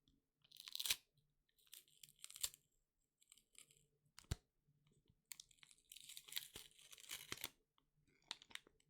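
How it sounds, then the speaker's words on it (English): Crinkling and tearing of a chocolate wrapper being opened close up in a quiet ASMR setting, in several separate bursts of crisp crackling with short pauses between them and one sharp snap near the middle. "let me open this with you guys"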